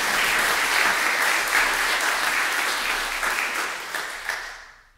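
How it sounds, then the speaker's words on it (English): A recital audience at Alliance Française Hawaii gives a warm round of applause for the team and friends, full steady clapping from many hands that gradually fades out. "So I just would like us to give a round of applause for the team and the friends."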